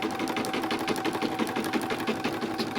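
An embroidery machine stitches out a design, a close, steady fast whirring chatter of the needle with an even pulse that runs unbroken throughout.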